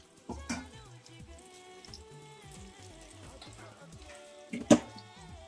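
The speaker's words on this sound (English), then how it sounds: "Let it boil for 5 to 7 minutes" Masala gravy boiling in a covered pot gives soft, irregular bubbling and popping close by, with two sharper bursts near the start and the end.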